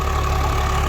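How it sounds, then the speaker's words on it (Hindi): A tractor pulls a rotavator through soil in second gear, its engine holding a steady, loud, low throbbing drone with an even pulsing beat throughout. "दूसरे गियर में चल रहा है और जुताई आपको दिख रही होगी"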